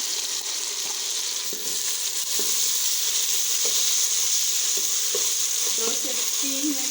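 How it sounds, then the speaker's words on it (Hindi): Onion, ginger and garlic frying in a pan: a steady, close sizzle with a bright hiss throughout, broken by faint clicks and stirring taps, no voices. "दो से 3 मिनट इसको फ्राई करते हैं।"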